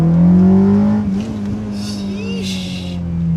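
A Honda Accord Type S with a K24 engine holds a high, steady whine toward 8300 rpm, loud and close, with the pitch wavering slightly as the revs climb.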